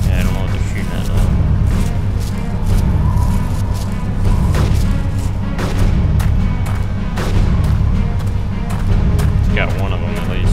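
Gunshots in the video game DayZ, repeated sharp cracks at irregular intervals, some near and some farther off, under continuous talk from players.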